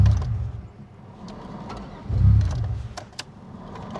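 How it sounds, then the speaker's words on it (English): A car engine stalls and cuts out on the road, leaving low rumbling bursts that fade, with brief clicks and mechanical knocks close by and no talking. "My engine just died again."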